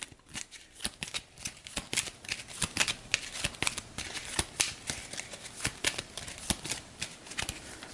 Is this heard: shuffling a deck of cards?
yes